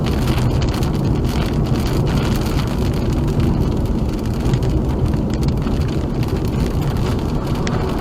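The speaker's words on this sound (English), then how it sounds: "it's all rain now" Heavy storm rain drums on a car during a tornado, a dense, constant hiss mixed with wind buffeting that stays loud and unbroken throughout, with no voices.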